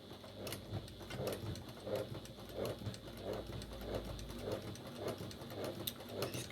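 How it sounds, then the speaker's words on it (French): A sewing machine topstitches a finishing seam on a garment's back panel with a longer stitch. It makes a quiet, steady, rhythmic whirring with evenly spaced pulses and no talk. "on va agrandir un petit peu le point et on va faire une surpiqûre de finition"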